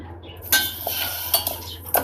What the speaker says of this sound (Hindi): अब चीनी को ऐसे चम्मच के साथ मुसलसल हिलाते रहें।